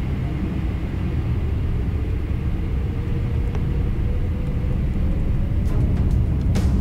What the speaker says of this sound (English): And now you will hear the sound of the engines.